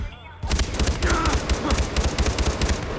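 Enemy soldiers in Far Cry 4 open fire in sustained, loud automatic bursts that start abruptly and keep hammering with overlapping rapid shots to the end.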